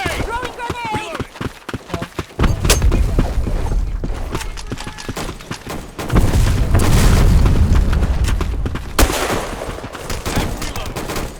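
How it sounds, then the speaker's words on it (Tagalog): Grenade blast in the shooter game Black Squad during a 5v5 Demolition match, a heavy boom amid bursts of rapid gunfire and a loud rumbling explosion, with game voice callouts over the top. "Throwing grenade."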